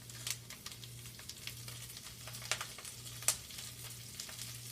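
Sliced Brussels sprouts seasoned with salt and pepper sizzle softly in a pan with a steady, quiet crackle, broken by occasional sharper pops and a low background hum.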